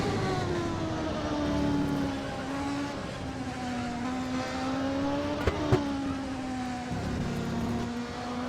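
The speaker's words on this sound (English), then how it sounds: "let's jump on board with Raiden to listen to the Ilmore Chevrolet working" Onboard Ilmore Chevrolet V8 in a 1988 CART Indy car at the Budweiser/G.I. Joe's 200, a loud steady high-pitched engine drone with slight pitch dips as it lifts and pulls, plus a brief mechanical clack near the end.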